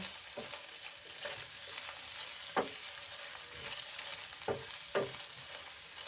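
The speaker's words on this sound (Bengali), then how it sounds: "লালচি করে ভেজে নেব" Steamed eggs coated in salt and turmeric fry in mustard oil in a frying pan, giving a steady close sizzle with a few sharp scrapes of a spatula turning them, no voices.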